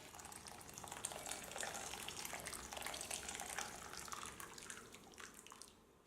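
Hot water, one and a half cups, poured steadily into a pot of raw mango and sugar for mango murabba, a continuous faint splashing pour that tapers off at the end, with no talking.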